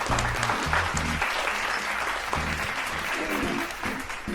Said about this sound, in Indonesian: Tepuk tangan, sobat caper.